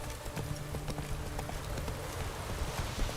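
Hooves of Roach, a horse in a video game, clip-clop steadily in a fast, rhythmic gallop, quiet and even, with a faint ambient bed underneath and no talking.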